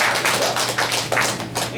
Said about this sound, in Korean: 스스로를 위해서 박수 한번 주십시오